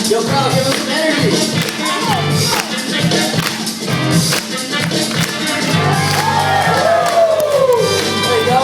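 A crowd at a battle event cheers, whoops and shouts in a dense, continuous roar that stays loud and close throughout, with scattered individual yells rising out of the mass.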